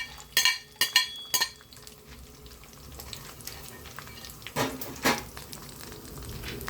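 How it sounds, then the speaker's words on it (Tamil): Rava being stirred and dry-roasted in a pan for rava laddu, a spoon scraping in quick bursts near the start and again midway, with a soft steady background between strokes. "கிண்டி விட்டுக்கலாம். பொன்னரமாக வறுத்து எடுத்துக்குவோம்."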